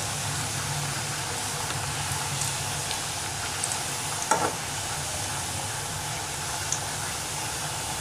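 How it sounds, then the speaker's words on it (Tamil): Flattened rice flour thattai deep-fry in hot oil over a medium flame, giving a dense, even, continuous bubbling hiss like steady rain, close and unbroken, with one faint knock partway through and no voices. "தட்டிட்டு இப்போ வந்து நம்ம எண்ணெயில் பொரிச்சிடலாம்."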